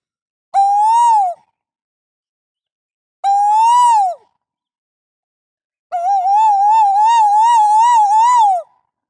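A human voice imitates an Asian koel, giving three loud, clear whistled phrases with wavering pitch separated by short pauses. The last phrase is longer and quavers repeatedly.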